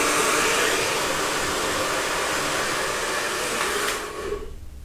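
A Babyliss Big Hair dryer blasting hair roots, a steady loud whooshing roar of air that cuts off near the end, alone without talk.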